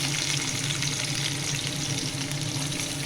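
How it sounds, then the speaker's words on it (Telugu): Onion pieces sizzle steadily in hot oil in a pan, a loud, even, continuous frying hiss with no pauses. "ఈ విధంగా వేడయ్యాక మనం కట్ చేసుకున్న ఉల్లిపాయ ముక్కలు వేసుకుందామండి"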